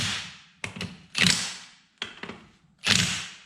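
Bolts on a BMW E39 differential being given a final tightening, with sharp metallic clicks and ratcheting bursts followed by short ringing scrapes, repeated in two close, loud rounds with pauses between them.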